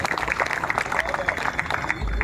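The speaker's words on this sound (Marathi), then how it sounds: "त्यांच्याबद्दल एक वेळा सर्वांनी टाळ्या वाजवा." An audience claps together at a devotional kirtan gathering, a dense, steady patter of many hands that carries on through the whole moment, with voices and crowd murmur mixed in.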